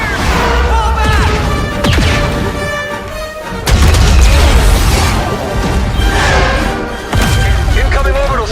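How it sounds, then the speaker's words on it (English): Heavy booming blasts from an orbital strike in a sci-fi shooter video game, loud and close with deep rumbling impacts around four and seven seconds, mixed with game dialogue and battle noise. "Incoming orbital strike."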